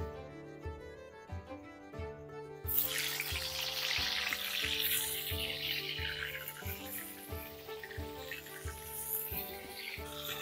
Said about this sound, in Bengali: 5 মিনিট হয়ে গেছে, এবার পটলটা ভেজে নেব।